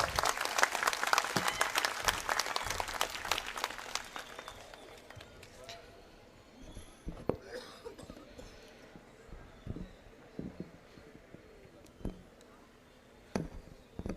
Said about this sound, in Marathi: यानंतरची विनंती, ज्याची आपण आतुरतेनं वाट पाहत आहात, असे सोलापूर जिल्ह्याचे लोकप्रिय पालकमंत्री आदरणीय जयकुमार गोरे भाऊ यांसाठी एकदा जोरदार टाळी वाजवूया.